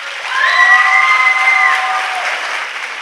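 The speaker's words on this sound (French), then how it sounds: "Bonne main d'applaudissements." A crowd at a high school awards gala applauds, a broad, even roll of clapping with some cheering, while a sustained tonal tone sounds briefly over it early on.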